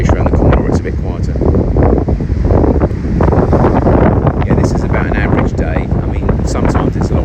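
Strong, steady wind buffets the microphone on a Barbados beach, with waves and surf rolling underneath in a loud, continuous roar and no clear break.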